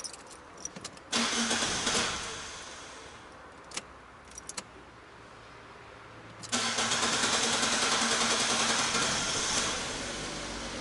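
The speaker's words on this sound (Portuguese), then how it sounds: "É isso aí, vamos dar partida." A Fiat Punto fitted with poor-quality replacement parts is started close by: clicks and a jingle of keys, a brief crank that catches, then a second crank firing into a steady idle, no talk.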